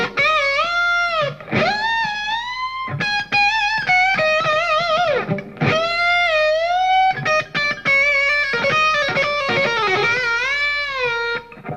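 Distorted electric guitar lead phrases swooping as strings bend up to pitch and release back down, several sustained bent notes in a row, loud and close with no talking.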